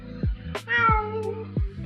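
A voice imitates a cat, giving several close, loud meows with falling pitch and one drawn-out wavering mew between them, all clear and without other talk.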